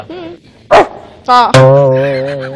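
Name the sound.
voice imitating a dog barking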